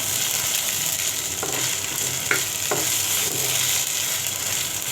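Ginger-garlic paste fries in hot oil with cumin in a pan while a pangas fish curry is being made, giving a steady, close sizzle. A few soft spoon taps sound over it.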